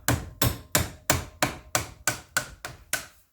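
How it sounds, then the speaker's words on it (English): The ring end of a spanner strikes a seized rear drum brake bracket on a Classic Mini, nine or ten sharp metallic knocks in a steady, quick rhythm, close and loud, with no talking. "So I'm just going to give it a bit of persuasion and see if it comes off."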